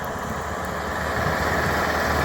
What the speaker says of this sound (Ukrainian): Трактор ловол. 1054.